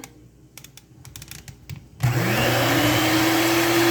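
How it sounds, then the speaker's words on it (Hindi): An electric beater starts up abruptly in a bowl of chocolate cake batter made with cooking oil, a loud steady whirring drone with rising pitch that follows a few light clicks and taps. "बीट करेंगे 5 मिनट तक।"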